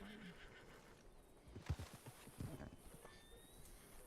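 A horse in a video game whinnies, with hoof clip-clops and snorts in the middle, fairly close, while a person talks quietly around it.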